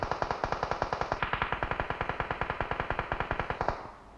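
Rapid automatic gunfire in PUBG Mobile sounds as a long, evenly spaced burst of sharp, close shots, about ten per second, that keeps going for nearly four seconds and then stops.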